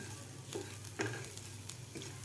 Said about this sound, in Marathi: या खालच्या शेंगदाण्याच कूट कैरी कांदा यामध्ये व्यवस्थित फ्राय करून घ्यायचे आहे